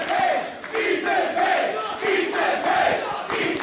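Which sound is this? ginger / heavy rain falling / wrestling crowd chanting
wrestling crowd chanting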